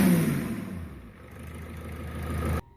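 A 12-valve Cummins diesel with a modified exhaust revs briefly, its loud opening roar falling away into a lower, rougher running note that builds again before cutting off abruptly.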